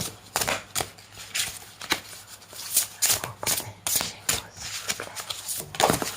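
Tarot cards shuffled by hand in a steady run of quick riffling flutters and soft slaps, close up and fairly quiet over a low background hum, with no voices.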